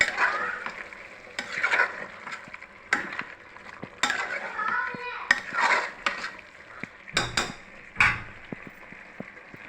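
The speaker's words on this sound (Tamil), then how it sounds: "மசாலா நல்லா வதங்கிடுச்சு" Thick masala for mutton biryani sautéing in a pan, with repeated scraping stirs, clinks of a utensil against the metal and a soft frying sizzle, close and fairly steady with brief louder knocks.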